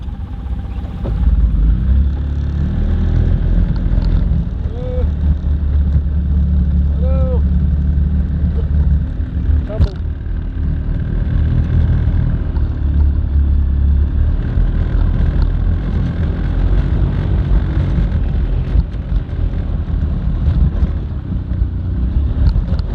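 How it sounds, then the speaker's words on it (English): Quad (ATV) engine running steadily throughout a ride outdoors, a loud continuous low rumble with wind buffeting the microphone and occasional voices over it. "I gotta put that quad away. In fact, why don't we go for a little ride?"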